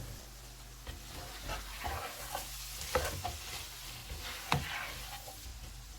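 A covered pot of egg curry (anday ka salan) simmering on low heat gives a quiet, continuous bubbling crackle with occasional soft pops, faint and close, with no voices.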